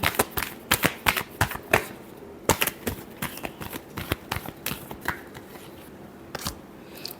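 A deck of tarot cards is shuffled close by in quick, crisp riffles and flicks, with bursts of sharp snapping clicks and short pauses, with no talking.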